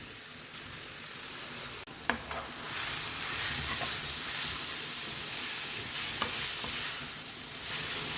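Grated zucchini sizzles and hisses in a pan with chili flakes, a steady frying wash broken by a few scraping stirs from a utensil, close and moderately loud with no talking.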